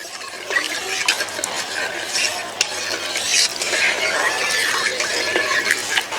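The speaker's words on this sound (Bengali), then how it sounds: "এভাবে দেব আর নাড়তে থাকবো যাতে ভালো করে গুঁড়ো দুধটা দুধের সঙ্গে মিশে যায়।" Milk powder being stirred into warm milk in a pan, with a continuous close scraping and swishing of a spoon against the pan and occasional small metallic clicks.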